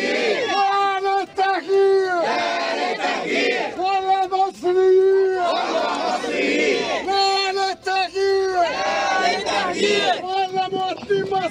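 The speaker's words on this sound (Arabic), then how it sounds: "دي كانت هتافات الأهالي في وش قوات الأمن" Residents of Arish chant in unison at security forces during a protest against home demolitions, loud rhythmic crowd voices repeating phrases close by with shouting rising and falling.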